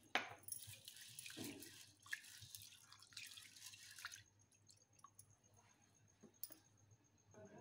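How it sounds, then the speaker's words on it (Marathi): Water splashes and pours into a pot as pigeon pea lentils (toor dal) are washed, a rushing pour at first that thins to drips and small sloshes, close and quiet. "ही डाळ पण आपल्याला 2 पाण्याने स्वच्छ धुवून घ्यायची"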